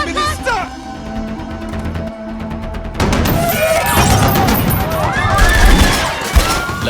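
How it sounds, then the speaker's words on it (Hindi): Gunfire in a Hindi film scene, scattered sharp shots early, then a dense crackling fusillade with crashes and booms building loudly over a background of shouting and commotion. "ओह गॉड, ये तो सचमुच गोलियां चल रही हैं।"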